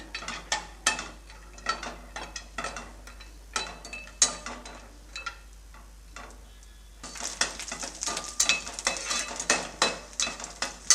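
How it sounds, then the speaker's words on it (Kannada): Raisins and cashews sizzling in a few spoons of ghee in a pan for sabudana payasam, a steady crackling fry with quick popping bursts that grows louder and denser in the second half, with no talk. "ಈಗ ದ್ರಾಕ್ಷಿ ಗೋಡಂಬಿ ಚೆನ್ನಾಗಿ ಫ್ರೈ ಆಗಿದೆ"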